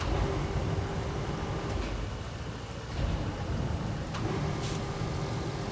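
Mule T1 Trailblazer truck in the Roadcraft video game, its engine droning steadily at close range through the whole stretch, with a few faint clicks on top and no voices.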